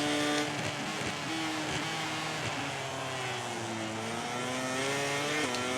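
A MotoGP 18 racing motorcycle in a game at Valencia is held hard on the power, its engine whining at a high, steady pitch that rises and shifts through gears, loud and close without any speech.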